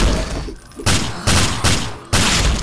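Gunfire in the zombie shooter game Brain Bread 2: three sharp, loud bursts of shots in quick succession, each cutting in suddenly over a busy game background.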